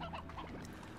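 A Briar Hen, a chicken creature in the video game Slime Rancher, gives a short honking, goose-like cluck, close and fairly loud with a faint hum of game sound underneath.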